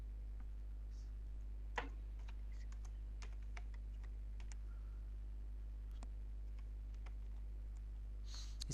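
Light, sparse keystrokes tap out a Facebook ad-targeting keyword on a computer keyboard, faint and scattered over a steady low hum.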